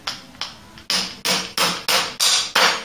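Hammer striking a part on a Mk3 Cortina classic car during restoration, a series of about nine sharp metallic blows, sparse at first then steadier, loud and close with no voices.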